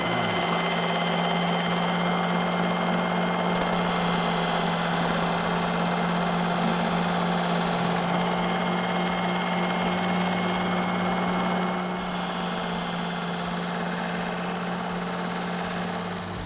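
A Ken Onion Mark 2 sharpener grinding a convex edge on a shovel, a steady, loud motor hum with a high grinding hiss that swells and drops away as the blade touches the belt and lifts off, no talk.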